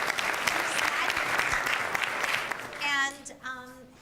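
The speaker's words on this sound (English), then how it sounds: "Round of applause." Graduation-style audience applause at a Champlain College event, a dense steady wash of many hands for about three seconds, then fading out as a voice begins speaking.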